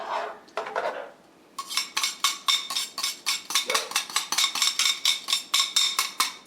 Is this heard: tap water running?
no